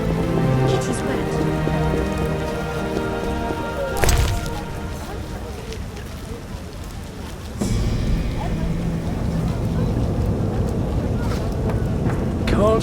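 Rain pours in The Witcher computer game, a continuous wash of drops and gusty wind under game music, broken by two sudden louder bursts; it runs unbroken for the whole stretch.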